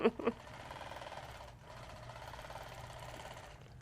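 A sewing machine free-motion quilting circle designs on a quilt hums steadily and close by after two brief knocks at the start, pausing briefly midway before running on.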